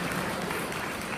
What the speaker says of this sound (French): Vous pouvez l'applaudir chaleureusement